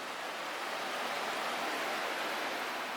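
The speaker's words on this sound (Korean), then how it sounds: "맑은 공기와 계곡 물소리." A mountain valley stream flows beside an outdoor restaurant, giving a steady, even rush of water with no breaks, with no voices heard.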